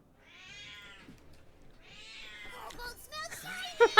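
Cat in a spooky Ravenloft fantasy game meows softly twice, drawn-out and fairly faint, followed by rising clicks and a brief louder burst near the end.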